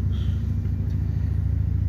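A 36-inch Exmark Vantage Series 3 mower with a Kawasaki engine idles in a steady, low pulsing rumble, close and even throughout, with no speech.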